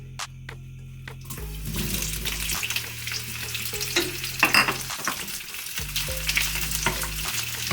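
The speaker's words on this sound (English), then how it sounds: "Now the oil is nice and hot. I'm going to add 2 onions, which is thinly sliced." Two thinly sliced onions are dropped into hot oil for brinjal curry, setting off a loud, close sizzle that carries on with stirring scrapes and a short pause partway through.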